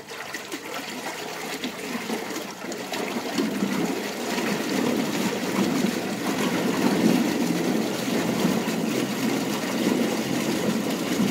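A trolling motor ramped up to wide open throttle gives a steady, loud, continuous whirring and churning water rush that holds constant throughout, with no talk.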